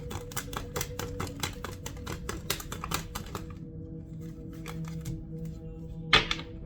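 Rapid crisp clicks and riffling taps close by, like a deck of cards being shuffled, pausing and then resuming with a final sharp snap.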